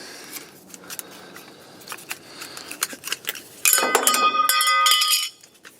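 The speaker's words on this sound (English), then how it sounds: "It all holds together with a screw and a nut. You just undo the screw." Small metal parts of a handmade miniature metal stove clinking as a screw is undone, scattered light ticks building to a sustained bright metallic rattle near the end, close and alone.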